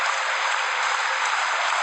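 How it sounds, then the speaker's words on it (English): Liverpool fans clapping together in a stadium during a match against Barnsley, heard as a dense, even wash of applause from a large crowd with no pauses. "the Liverpool fans are on their feet and clapping"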